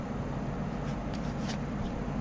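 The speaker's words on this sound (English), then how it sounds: "I'm going to give it a couple shuffles" Playing cards with a distinctive back design, taken from new deck order, shuffled a couple of times, giving a steady close riffling rustle throughout with no talk.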